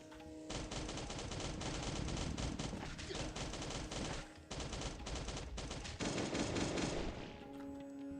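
Automatic gunfire from the Last Day on Earth: Survival video game rattles out in long rapid bursts, loud and close, with a brief gap midway and no talking over it.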